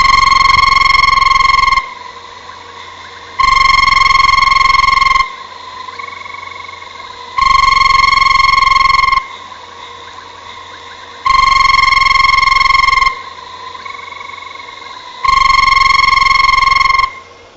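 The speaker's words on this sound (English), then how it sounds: "Banded rubber frog, Phragmitis bifasciatus." A banded rubber frog (Phrynomantis bifasciatus) gives loud, close, long trilling calls in five even bursts of about two seconds each, with quieter gaps between them and no voices.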